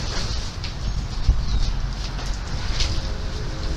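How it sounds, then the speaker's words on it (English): Wind gusts outdoors buffet the microphone, producing a steady low rumble and broadband rush that swells slightly in places throughout, with no clear voices. "Kind of windy out here, Israel"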